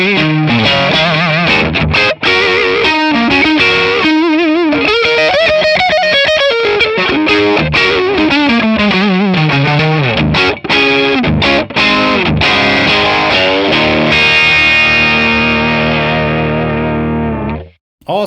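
Electric guitar through a ToneX overdrive pedal model plays a loud, distorted run of chords and single notes, ending on a sustained ringing chord that cuts off abruptly.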